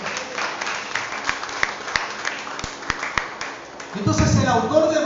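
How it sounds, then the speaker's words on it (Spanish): A church congregation applauds loudly with dense, sustained clapping for about four seconds before a voice begins speaking over the fading applause. "Den un fuerte aplauso a Dios."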